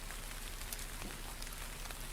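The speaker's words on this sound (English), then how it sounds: "The wind grows stronger, blowing raindrops against my leggings." Rain and gusting wind in a video game: a steady, faint wash of raindrops hissing on surfaces with a soft windy rush, continuous and without voices.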